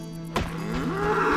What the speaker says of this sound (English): Temeria's largest cow, winner of 7 guild competitions, Strawberry